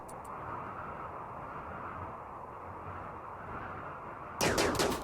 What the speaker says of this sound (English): I think that should allow Cambiar to get at least one burst off with the charge rifle